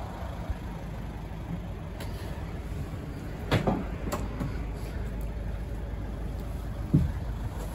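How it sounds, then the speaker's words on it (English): Rear twin doors of a 2011 Volkswagen Caddy BlueMotion van opening, heard as a few distinct clunks and latch clicks spread over several seconds against a steady low background rumble. "It has twin opening rear doors that open nice and widely too."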